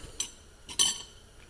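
Steel clutch plates from a twin-turbo C8 Corvette's OEM clutch clinking as they are flipped over, a couple of light metallic ticks and one sharper clink, close and quiet with no talking.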